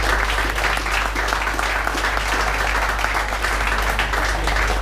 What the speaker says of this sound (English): round of applause for Johnny Oduya for that